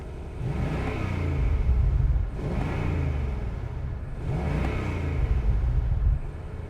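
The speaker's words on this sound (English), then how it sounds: "And now we're gonna rev it up a bit so you can see it." A 2023 BMW M850i Gran Coupe in Sports Plus mode revving while parked: loud, close engine roars that swell and fall back twice to a throbbing idle, with no voices.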